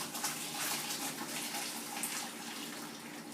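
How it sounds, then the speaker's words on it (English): Water pours and splashes as pasta is drained through a strainer in a kitchen sink, a steady rushing gush lasting throughout with a slight easing at the end. "straining the pasta in the strainer in the sink"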